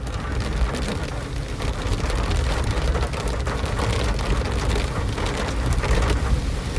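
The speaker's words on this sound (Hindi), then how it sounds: "जैसा देख रहे हो आप बारिश," Heavy rain pours onto a road in a steady, dense, continuous hiss with a low rumble underneath, loud and close throughout, with no voices.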